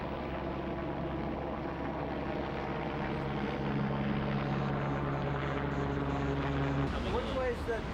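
Steady drone of a twin-engine A-Star helicopter in flight over London with rotor and turbine hum, continuous and fairly loud, a brief shift near the end.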